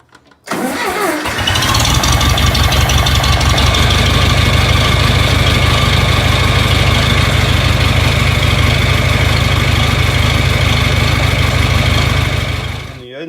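A John Deere 3020 tractor engine cranks briefly and catches, then settles into a loud, steady, close idle with a strong low rumble that runs on evenly until near the end.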